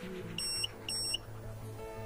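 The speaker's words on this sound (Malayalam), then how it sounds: "പിന്നെ ഒരു ബീപ് സൗണ്ട് ഉണ്ടാവും" Two sharp electronic beeps from a newly fitted car RPM meter as the ignition is switched on, evenly spaced and close, over a low hum.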